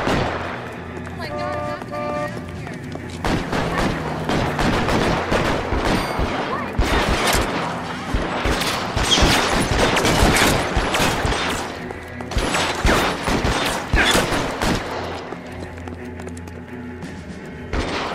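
Enemy gunfire in L.A. Noire, sustained rapid volleys of shots and bursts that pound continuously with heavy thumps, interrupted by brief lulls, while someone talks over the shooting.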